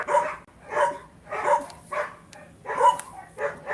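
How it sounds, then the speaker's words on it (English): Several dogs barking outside an open window in repeated bursts, loud and fairly close, with short pauses between volleys. "If the barking is too loud, let me know"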